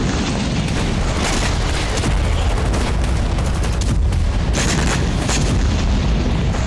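Missile and drone strike explosions over Sevastopol bay form a dense, continuous roar of blasts and crackling bursts that rumbles loudly throughout.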